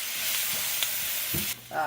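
Grunt fish frying in oil in a pan, giving a close, steady sizzling hiss with a few sharp clicks and brief scraping touches near the end.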